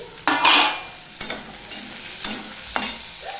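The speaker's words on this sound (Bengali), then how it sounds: "আমি মিশিয়ে নিয়ে ভাজতে থাকবো" Cut potatoes are stirred with browned onions in a frying pan, with about four distinct scraping strokes spaced roughly half a second apart over a soft, steady background.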